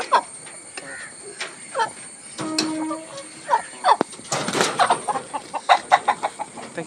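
Chickens clucking on a Kerala cattle farm, a series of short clucks and calls close by, irregular and loud against quiet background with occasional rustling.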